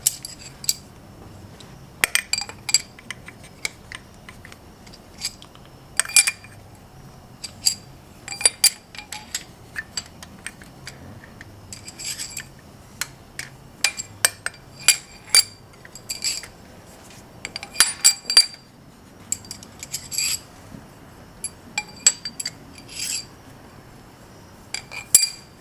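Metal engine lifters dropped one by one into their bores during a classic car engine rebuild, giving sharp, bright metallic clinks and taps scattered irregularly over a quiet background, close and fairly crisp, with no talking.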